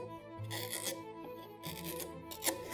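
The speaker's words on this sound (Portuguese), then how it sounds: "começa o desbaste com uma goiva, que é esse formão com a ponta curva" A luthier's curved gouge roughs out the spruce-free violin top wood, giving steady close rasping and scraping strokes in a continuous run, with no talk.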